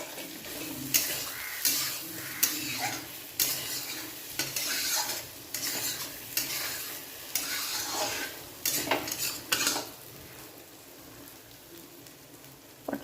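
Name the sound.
spice paste frying in oil, pointed gourd added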